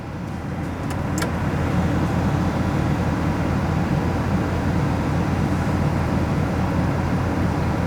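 Porsche Cayenne Turbo S air suspension lowering from normal to sport level, a steady broadband hum with a brief faint click near the start, continuous and fairly close, with no talking.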